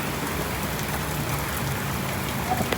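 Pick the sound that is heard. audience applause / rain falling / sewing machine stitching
rain falling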